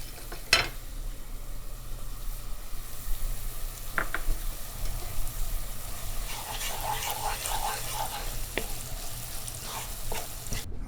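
Golden onions with turmeric frying in a pan, a steady sizzle throughout with a few sharp clinks and stirring scrapes, close and moderately loud, no talking.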